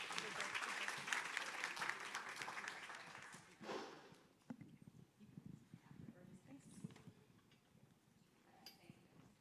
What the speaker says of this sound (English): We can go ahead and give them a round of applause.